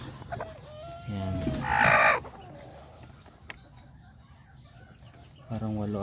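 Backyard chickens, including a hen with her young chicks, cluck and call nearby in short bursts with quieter gaps between them, and one loud squawking outburst stands out.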